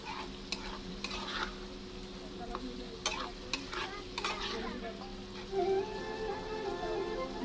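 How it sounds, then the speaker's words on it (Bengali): Masala spice paste frying and being stirred in a pan in a home kitchen: a steady close sizzle broken by repeated scraping strokes of the spoon against the pan, with no talking. "এখানে ভালো করে মশলাটা কষিয়ে নেব"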